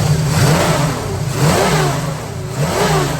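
A 1979 Chevrolet Camaro Z28 with a Holley 4-barrel and true dual Flowmaster exhaust revs up loudly several times, the pitch surging and dropping with a deep rumbling exhaust, close by.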